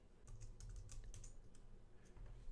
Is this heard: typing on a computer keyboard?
yes